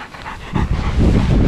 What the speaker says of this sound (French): Yukon et Clem, les chiens norvégiens.